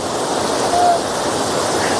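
Overflowing water at Kareda Dam rushes in a steady, loud, broadband roar with no breaks, close and unvarying throughout.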